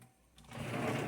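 Water starting to flow inside a Hava R01 countertop dishwasher, a brief soft click giving way to a steady, faint rushing hiss that builds and holds.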